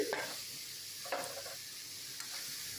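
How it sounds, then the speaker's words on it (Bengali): Fried potatoes go into a pan of long beans being cooked for a Bengali stir-fry, giving a quiet steady sizzle with a few brief scrapes and rustles, no talking. "তো এবার ভেজে রাখা আলুগুলো আমরা দিয়ে দেব।"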